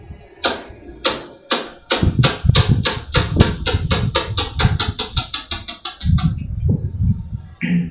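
A human voice imitating a tractor generator starting, a sputtering run of sharp rhythmic bursts that speed up into a rapid chugging patter, close and loud, then trail off near the end.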